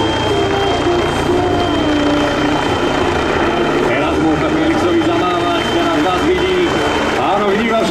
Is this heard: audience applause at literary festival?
no